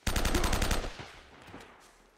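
Automatic gunfire in Uncharted: Drake's Fortune: a loud, rapid burst of about ten shots over under a second, then a fading echo with a couple of faint distant pops.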